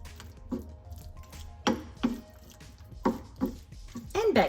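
Penne pasta being mixed in a bowl with grated cheese, a series of irregular wet squishing knocks and scrapes close by, with faint background noise and no clear talk.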